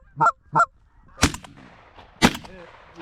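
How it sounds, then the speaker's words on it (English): Geese give two quick loud honks over a freshly cut field during a hunt, followed by two sharp, echoing shotgun blasts about a second apart. "Watch this bird coming back around right here."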